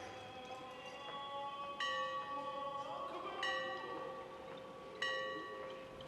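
Bells of Metekhi church in Tbilisi ring out in several struck peals, each leaving a long resonant hum, heard from some distance over a steady background murmur.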